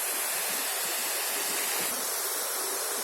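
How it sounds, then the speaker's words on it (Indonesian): Small waterfall at Taludaa in Gorontalo pours in a steady, dense rushing roar, close and continuous with no voices over it. "Inilah air terjun mini di Taluna."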